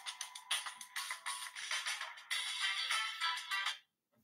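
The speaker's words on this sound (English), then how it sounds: "Darn phone wouldn't shut off." A phone ringtone chimes repeatedly in short rhythmic bursts, fairly clear and close, then abruptly cuts off near the end, leaving silence.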